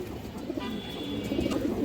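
A female pigeon of the kharagola type coos softly in short low repeated notes, close by, with faint background hum and no talk.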